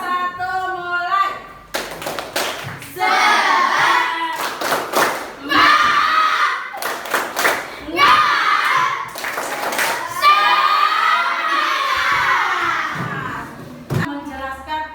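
A class of children performs a rhythmic 'tepuk semangat' clapping chant during an elementary lesson, with loud bursts of group claps and thumps in a patterned rhythm mixed with young voices chanting together, close and energetic for most of the stretch.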